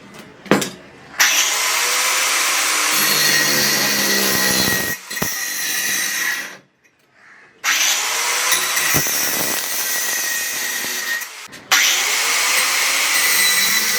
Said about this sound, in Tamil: இப்போ எக்ஸஸாக இருக்கிறதுலாம் கட் பண்ணி எடுத்துக்கணும்.